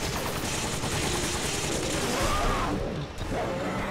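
Continuous rapid gunfire in Resident Evil 5 fills the scene at a steady, dense level, a chaotic fusillade with crashing impacts that dips briefly near the end.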